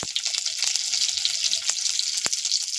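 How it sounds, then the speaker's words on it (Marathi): Small slices of coconut roast in a pan, giving a soft, steady sizzle and hiss with a few light taps and scrapes, close by and with no voices. "खोबऱ्याचे असे छोटे काप करून तुम्ही यामध्ये भाजून घेऊ शकता"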